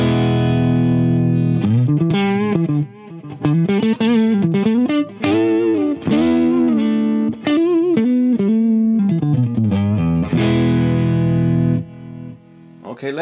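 Electric guitar played through a Harley Benton Tube15 tube amp into a cab with a cheap Chinese-made Celestion 7080 speaker, a loud distorted riff of sliding, bending notes with short pauses, ending on a ringing sustained chord.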